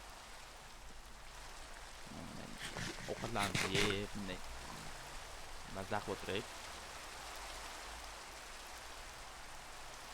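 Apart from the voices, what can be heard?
rain falling in the video game Minecraft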